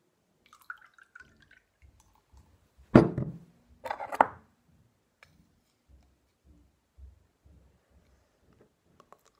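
A spoonful of water tipped into a mixture for a children's science experiment, heard as two short, close splashy drips and clinks about a second apart amid an otherwise quiet room with faint small knocks.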